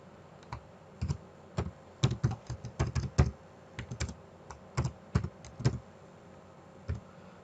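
Bursts of keystrokes on a computer keyboard while entering an address into form fields, irregular clusters of close, crisp clicks with short pauses between runs and no talking.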